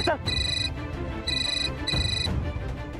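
A telephone rings indoors during a TV serial scene, with three bright electronic ringtone bursts in a steady repeating pattern over a low background murmur.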